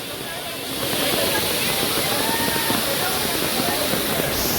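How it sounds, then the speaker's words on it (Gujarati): Water plunges from above at a strong waterfall by the Gaumukh temple near Songadh, Gujarat. The continuous roar grows slightly louder after the first second and then holds steady, with faint voices under the rush. "છે ને બાકી જોરદાર ધોધ ને ઉપરથી પાણી આવે છે."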